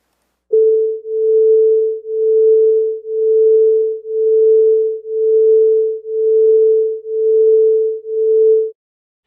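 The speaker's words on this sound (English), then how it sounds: "We're going to hear a pulse once a second, which is called beating." Two steady pure tones beat against each other, making a clean hum that swells and dips once a second for about eight even pulses, loud and alone.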